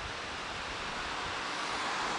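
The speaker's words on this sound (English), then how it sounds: "This is the River Don here." The River Don flowing through Sheffield city centre gives a steady, broad rushing wash of water, close and continuous with no talk over it.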